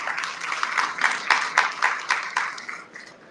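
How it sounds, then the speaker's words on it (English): A crowd claps for the organizers at a diabetes awareness and fundraising event in Sydney, a dense spell of many hands applauding at moderate distance that tapers off over a few seconds. "So big clap for them."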